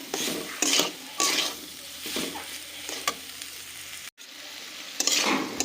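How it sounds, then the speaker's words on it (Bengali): Garlicky spice paste frying in a pan for a pea-leaf (motor shak) ghonto, with a steady sizzle and repeated stirring scrapes, interrupted by one brief cut near the end, close and clear with no talk. "আরও কিছুক্ষণ আমরা ভালো করে মশলাটাকে ভেজে নিচ্ছি"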